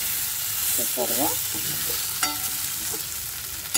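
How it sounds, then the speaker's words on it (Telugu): Ridge gourds fry in oil in a pan for a Telugu curry, giving a steady sizzle throughout while someone talks briefly over it and a utensil clinks once or twice. "ఇటు కూడా వేగిపోయినవి బీరకాయలు"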